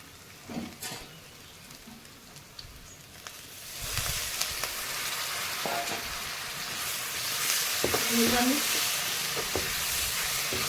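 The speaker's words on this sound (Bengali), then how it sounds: "এরপর আমি ভালো করে মশলাটা কষিয়ে নেবো" Spice masala with chilli powder frying in oil for a goat head curry, starting as quiet scraping and stirring, then swelling into a steady close sizzle with occasional clinks of the spoon against the pan.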